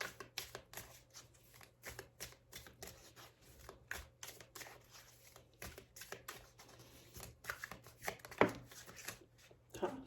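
Oracle cards are shuffled by hand for a love reading, giving quiet, repeated papery riffles and soft taps in short uneven bursts, faint and close.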